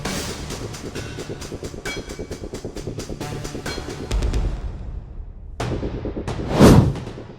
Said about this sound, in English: A train rushes through a herd of deer who were walking on the train rail